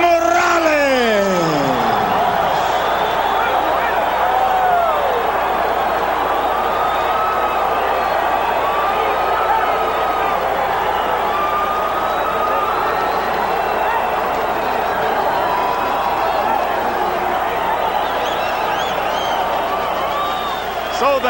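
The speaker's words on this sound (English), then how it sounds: "So the crowd reacts to the split decision in favor of Erik Morales" A boxing arena crowd roars in a sustained mixed wave of cheers, whistles and shouts after a split decision in a title fight, loud and continuous throughout with an announcer's voice in the first seconds.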